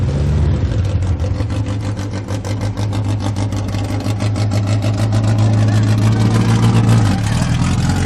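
Vintage race cars roar around the Lime Rock circuit during a vintage racing event, a loud sustained engine drone with rapid pulsing, pitch shifting as the cars accelerate past, continuous throughout.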